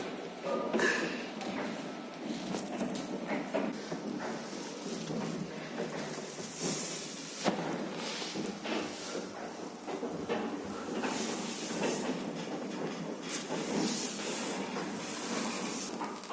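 An old paternoster lift runs inside a building in Vienna with a continuous mechanical rumble and hiss, steady and fairly close throughout, with no clear speech over it.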